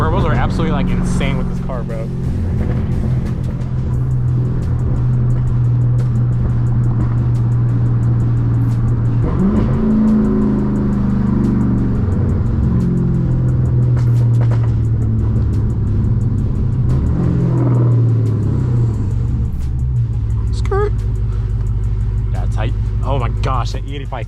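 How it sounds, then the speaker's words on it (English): A 1000 hp Dodge Hellcat Redeye on E85 accelerates from inside the cabin, its engine droning and climbing through long pulls with shifts, loud and close, while occupants talk over it. "These turbos are absolutely like insane with this car, bro."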